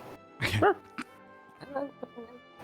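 A person imitating a dog's bark with a short, loud yap-like vocal burst, followed by softer voiced sounds and talk during a tabletop game session.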